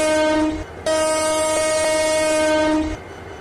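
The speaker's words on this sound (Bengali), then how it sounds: "এবার ট্রেনটিকে নিয়ে সামনে এগিয়ে যাব।" The Tista Express intercity train between Dhaka and Joydebpur sounds a loud, steady horn that holds for several seconds, then breaks off briefly and sounds again, alone with no talk.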